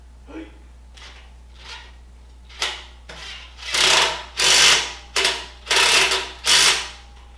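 Impact wrench driving a bolt on a firewood processor build, a few short bursts building to repeated loud rattling hammering pulses, close, with steady mechanical hum beneath.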